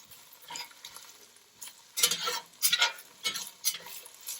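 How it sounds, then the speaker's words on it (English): Onions sweat in a pan while being stirred, soft scrapes and taps from the utensil in irregular bursts over a faint sizzle, close and moderate, with no talk. "we're just going to let the onions start to sweat"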